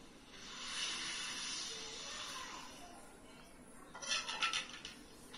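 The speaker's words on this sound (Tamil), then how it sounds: "இப்போ அந்த கரைஞ்ச கலவைய நம்ம இந்த நண்டு குழம்புல ஊத்துறோம்." A tamarind and coriander mixture is poured into a simmering Chettinad crab curry, giving a soft hissing, pouring rush that swells and fades, followed by a few brief clinks of a utensil against the pot near the end.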